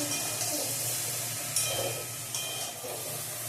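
Food being sautéed and stirred down in a pan, a steady broad sizzling hiss with faint scraping, continuous and moderately close, with no voices.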